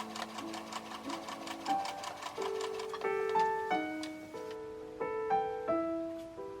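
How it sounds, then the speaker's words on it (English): A sewing machine stitches cotton tape onto the collar of a Liberty fabric dress, its rapid ticking needle running in short bursts beneath soft background music, close and fairly quiet. "The last piece of cotton tape was then sewed in place"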